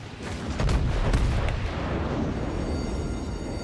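Heavy battleship shell fire from an Iowa-class battleship in the World of Warships naval game, a deep booming blast followed by a long rumbling decay, loud and close with no talk.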